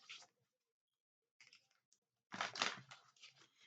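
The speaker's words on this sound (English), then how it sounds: "Maybe two more shuffles." A deck of reading cards is shuffled by hand in quick, crisp riffles and flicks, a short burst, a pause with faint taps, then a longer fluttering shuffle, close and soft.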